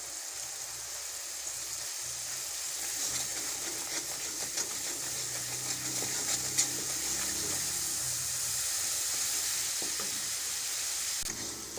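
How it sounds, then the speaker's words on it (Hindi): Prepared spice masala sizzling and frying in hot oil in a pan for chana chaat, a steady broadband hiss with occasional stirring scrapes, close and continuous, no voices. "अब इसमें जो हम लोगों ने मसाला तैयार किया है वो डालेंगे। और मसाले को थोड़ा सा भूनेंगे।"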